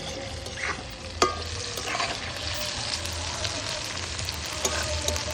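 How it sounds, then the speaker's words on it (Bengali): Chicken popcorn pieces frying in hot oil in a home kitchen, a steady dense sizzle throughout with occasional utensil clinks, close and moderately loud, no talking. "উল্টে পাল্টে লাল লাল করে চিকেনগুলো এবার ভেজে নেব।"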